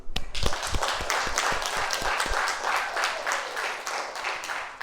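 A church congregation claps together during a Sunday sermon at a Presbyterian church, with sharp, fairly close claps in a quick run at first, then settling into a dense, steady wash of applause.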